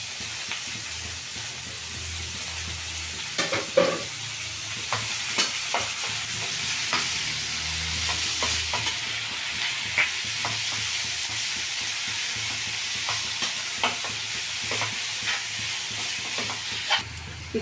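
Sprouted beans and greens stir-fry with fried onions in a pan, a steady sizzle broken by repeated scraping and stirring clicks of a spoon, loud and close throughout with no talking.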